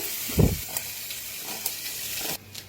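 Guar beans frying in oil in a pan give a soft, steady sizzle with a brief louder stir or shuffle near the start and faint clinks later.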